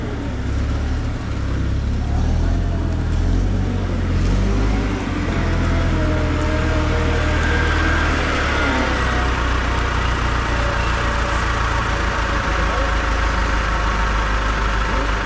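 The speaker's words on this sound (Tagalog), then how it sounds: "Big truck. Big truck." A big truck engine rumbles steadily at close range, with a deep low idle running continuously throughout at a fairly loud level, with scattered faint voices and outdoor activity mixed in at a construction or dumping site.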